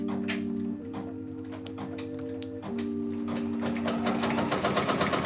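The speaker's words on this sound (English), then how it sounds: "I am stitching at 500 stitches per minute" A Brother Persona PRS100 embroidery machine stitches a patch at speed, a close, steady mechanical whir and rapid ticking with a shifting motor hum.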